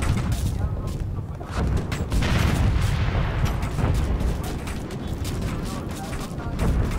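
Battlefield gunfire from the video game Operation Flashpoint: Red River, with a steady wash of distant rifle shots, booms and crackling fire running throughout, mixed with voices calling out over the combat.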